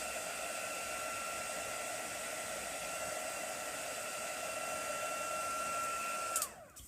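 A hair dryer blows steadily at close range while drying a decorated jam jar, its constant whine holding until it is switched off and spins down near the end.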